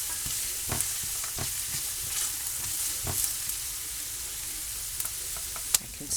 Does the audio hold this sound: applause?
no